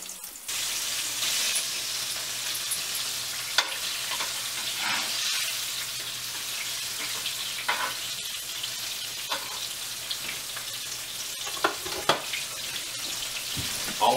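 Catfish frying in a pan. A steady, close oily sizzle runs throughout, with occasional crackles and spatters and no voices.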